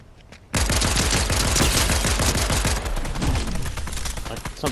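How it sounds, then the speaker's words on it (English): Rapid bursts of automatic gunfire in a Fortnite Duos match, loud and dense with many closely spaced shots over several seconds as an enemy is shot at. "I swear that seemed like I shot him enough times to get that down"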